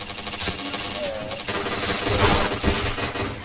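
Gunfire in the shooter game PointBlank comes as a dense run of rapid shots and crackling bursts. It stays fairly quiet and busy throughout, with game noise in the background.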